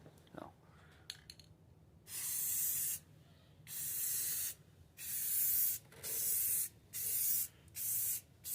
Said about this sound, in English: Do a little test spray.